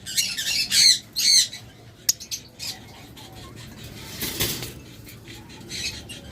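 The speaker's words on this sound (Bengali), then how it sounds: "এরপর চমৎকার আমাদের কাছে রয়েছে এক জোড়া ককাটেল" A pair of cockatiels at a bird seller squawk in harsh, shrill bursts, loudest in the first second or so, then scattered calls and rustling fade into quieter background noise.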